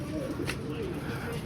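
Soft cooing from a female domestic pigeon let out for the first time, a low murmur close by under steady background noise.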